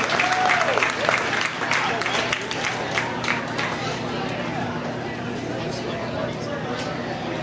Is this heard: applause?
yes